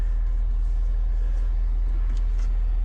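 New pickup truck towing a Diamond C dump trailer, rolling along with a steady low road rumble and engine hum, close and continuous with no voices.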